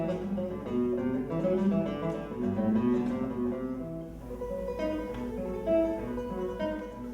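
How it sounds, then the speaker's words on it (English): A classical guitar plays a flowing run of plucked notes and chords at a soft to moderate level, continuous for about seven seconds with a slightly roomy tone and no voices. "Human voices are followed by the sound of the classical guitar."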